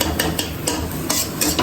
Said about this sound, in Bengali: তো চলো এখন ডিমটা ভেজে নিই